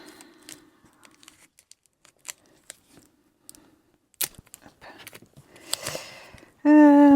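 Sparse crisp snips and crinkling paper sounds come one at a time in a quiet room, ending with a short spoken word.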